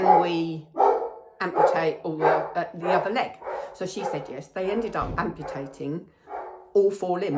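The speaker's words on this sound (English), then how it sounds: "excuse the dog barking." A dog barks in the background while a person talks steadily over it, and the barks stay partly masked beneath the voice.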